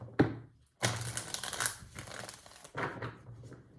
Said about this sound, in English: Shuffling for Pisces